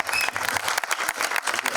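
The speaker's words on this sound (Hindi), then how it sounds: "इनके लिए एक ताली बजाओ दोस्तों. तालियां बनती हैं." An audience at a film trailer launch event claps steadily in dense, continuous applause, fairly loud and close, with no voices over it.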